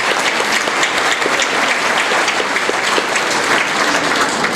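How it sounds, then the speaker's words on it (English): Sustained audience applause at an Arab American chamber event, a steady dense wash of clapping from a crowd that holds evenly loud throughout, with no talk over it. "And let's just give Faye another round of applause."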